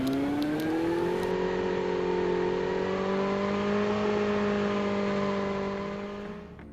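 A motorbike ridden in Call of Duty Mobile gives a tonal engine whine that climbs in pitch as it accelerates, then holds steady at speed before fading out at the end.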